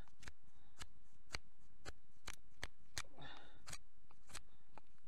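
An artisan Le Sotré knife carves a point into a stick of wood with a knot in the middle. Sharp, quiet cutting clicks and scrapes repeat irregularly, with a softer rasping shave partway through.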